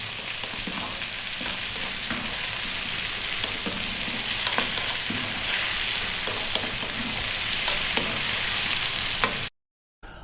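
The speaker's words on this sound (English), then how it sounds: "we're going to go for about another 4 minutes or so frying this around." Steady sizzling and crackling of vegetables frying in a pan, with occasional stirring clicks, close and continuous, then a brief cut to silence near the end.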